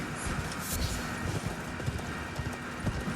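Rapid, rhythmic hoofbeats of a galloping horse in Elden Ring over a dense, steady background roar, continuous and close throughout.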